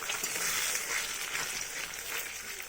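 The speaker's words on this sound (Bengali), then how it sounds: "প্রথমে ডিমটা ভেজে নিই" Egg frying in a pan for Bengali egg posto, a steady broadband sizzle that holds evenly throughout at close range with no voices.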